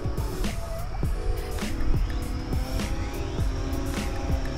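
E-flite Turbo Timber X RC plane flying outdoors in light wind, a continuous electric motor drone with wavering pitch and repeated swells, fairly close and steady throughout, no talking.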